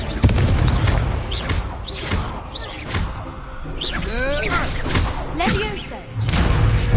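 Confringo explosion spells cast in a Harry Potter video game, several booming blasts and thuds bursting over continuous spoken incantations and game sound effects, fairly loud throughout.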